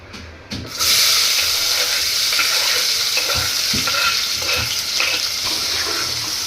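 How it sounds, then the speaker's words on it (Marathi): Chopped onion with a bay leaf sizzles in hot oil for a chicken curry tempering, a loud steady frying hiss broken by several scraping stirs of a utensil in the pan. "कांदा थोडासा आपल्याला परतून घ्यायचा आहे."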